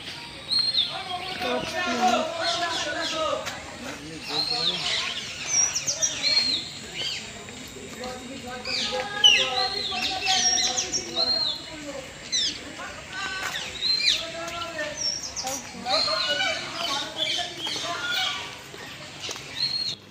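Birds at the Garh Chumuk tourist centre, where a parrot is among them, keep up a busy stream of chirps and calls, with repeated short tweets layered over a steady outdoor background.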